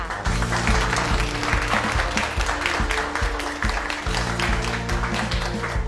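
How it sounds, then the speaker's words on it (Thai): Participants at a training class applaud for a classmate, their brisk clapping running continuously over a steady musical backing track with a repeating low beat. "ขอเสียงปรบมือให้กับเพื่อนร่วมคลาสงในวันนี้ค่ะ"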